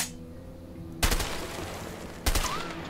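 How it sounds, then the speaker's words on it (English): Two loud, sharp M14 rifle shots ring out about a second apart in the video game A Way Out, each with a booming low-end crack and a ringing tail, over a steady game ambience. "Ah, the M14. Packs quite a punch from all ranges."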